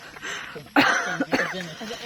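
Two sharp, close coughs in quick succession, raspy and loud, with faint background noise between them.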